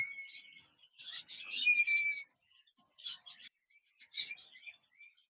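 Java sparrows give short, high chirps and thin whistled notes in scattered bursts with brief pauses, near and fairly clear, at a bird seller's.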